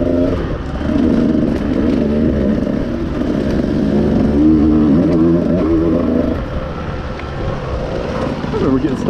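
A Husqvarna motorcycle engine revs on a trail ride, loud and close, with wavering rises and falls in pitch and some clatter, while a voice talks over it.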